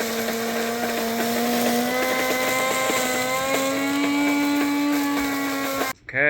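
An electric coffee grinder runs steadily, with a loud, continuous motor whine and a rising pitched hum for about six seconds before it cuts off abruptly.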